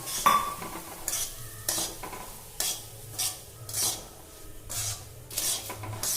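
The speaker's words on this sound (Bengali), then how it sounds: "এবার গ্যাসটাকে মিডিয়াম ফ্লেমে রেখে 4 থেকে 5 মিনিট সুজিটা ভেজে নেব" 200 grams of semolina roasting in ghee over a medium flame, stirred in a pan with repeated rhythmic scraping strokes about once a second over a low sizzle, close and clear.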